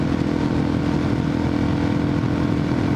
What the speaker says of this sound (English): I'm riding a freaking Supermoto right now